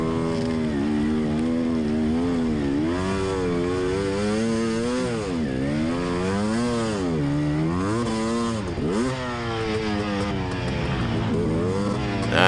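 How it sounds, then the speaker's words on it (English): Dirt bike engine revving hard and continuously, pitch swinging up and down as the stuck bike is rocked back and forth in deep mud at a mud race, loud and close with no talking. "I got to keep rocking the bike here, try to get it unstuck"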